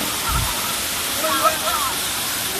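Erawan Waterfall in Kanchanaburi, Thailand, pours in a dense, steady roar of rushing water, loud and close, with no break throughout.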